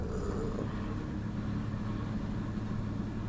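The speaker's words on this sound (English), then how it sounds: "On the night test run of the Jeep Liberty" A 2002 Jeep Liberty with a 3.7 engine drives on a night test run, its steady low engine rumble and road noise holding continuously without a break.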